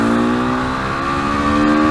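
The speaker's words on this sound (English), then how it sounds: "I just love the throttle response on this motorcycle." KTM RC 390 motorcycle accelerating hard on open road, a loud steady engine drone with rising harmonics close to the rider throughout.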